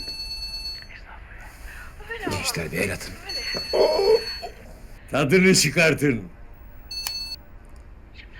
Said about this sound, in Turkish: Bu telefonlar bir sustu mu bir daha çalmaz.